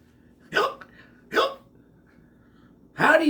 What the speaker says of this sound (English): Pete has the hiccups.